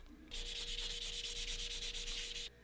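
Wet and dry sandpaper at 3,000 grit rubbing across a double-bit axe head, making a close, steady, rhythmic scratchy rasp of quick back-and-forth strokes that stops abruptly.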